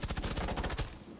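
Rapid automatic gunfire in Rainbow Six Siege, a quick string of about a dozen evenly spaced shots that stops abruptly with a short fading tail.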